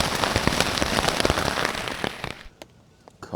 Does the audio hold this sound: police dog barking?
no